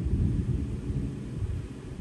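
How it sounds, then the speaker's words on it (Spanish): Low rumbling thunder rolls steadily through a rainy day, heard from indoors as a continuous deep murmur with no talking. "me callé para que escucharan los truenos"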